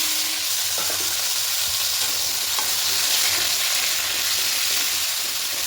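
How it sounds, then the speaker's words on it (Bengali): Cut potatoes fry in oil in a pan, a dense continuous sizzle with occasional stirring scrapes, close and steady throughout with no talking. "এবার আলুগুলো একটু হালকা করে ভেজে দেবো।"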